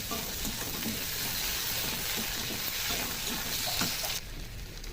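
Ginger and cumin paste sizzles and fries steadily with spices in a pan, a dense continuous crackle with occasional stirring scrapes, then the sizzle eases slightly near the end.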